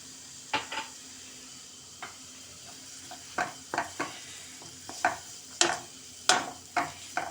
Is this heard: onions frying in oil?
yes